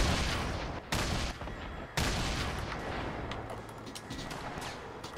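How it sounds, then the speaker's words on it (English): Grenade launcher blasts in a Fortnite squads match: two sharp broadband booms about a second apart, each trailing into a long rumbling wash of explosion noise and scattered crackling gunfire, loud and dense throughout. "Alright, I'm launching grenades in there."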